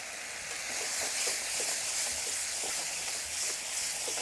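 Balti curry cooks down in a pan with a steady, quiet sizzle and hiss, faint crackles and pops scattered through it, no voices.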